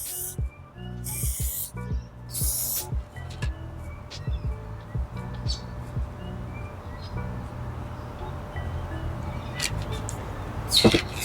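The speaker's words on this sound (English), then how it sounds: "after I spray this a bit white" Short hissing bursts of a low-pressure, water-based spray paint can, a few quick sprays early on then fainter ones, amid rustling and handling noises.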